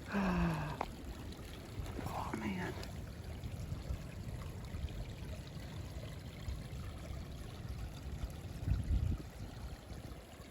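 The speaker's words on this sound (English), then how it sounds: "Y'all, can we just pause and listen to this water?" A woodland stream flows beside a hiking trail with a steady, close rushing wash that continues throughout, while someone briefly speaks over it near the start.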